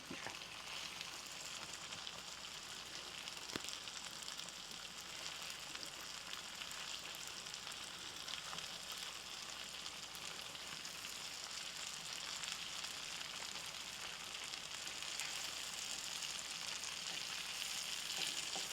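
Continuous crackling sizzle of fish frying in hot oil in a pan, steady and close, with no talking.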